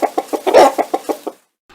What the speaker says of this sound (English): I've got this black hen in a white box.